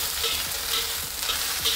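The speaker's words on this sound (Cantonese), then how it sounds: "將啲京葱咧煮到佢燶燶地，咁咧佢哋就會好香噶啦" Peking scallions (leeks) frying in oil in a hot wok over medium-high heat, a steady close sizzle with faint stirring scrapes throughout.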